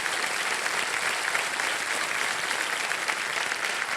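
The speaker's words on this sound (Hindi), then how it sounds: "तालियां बजते रहे इनके लिए।" Studio audience applause on a televised quiz show, steady and dense clapping throughout, close and loud with no talking over it.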